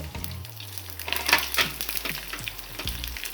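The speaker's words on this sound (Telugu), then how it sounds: "మనకి ఆయిల్ బాగానే కాగిపోయింది కాబట్టి వెంటనే శనగపప్పు ఇంకా వేరుశనగ గుళ్ళు, ఎండుమిర్చి," Chana dal, peanuts and dried red chillies drop into hot oil for lemon rice, bursting into a close crackling sizzle that swells and then settles into a steady fry.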